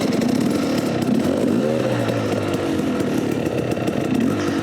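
A 2018 KTM 250 XC-W TPI two-stroke dirt bike engine buzzes steadily and loudly up close, its pitch rising briefly in a quick rev partway through before settling back into a raspy drone.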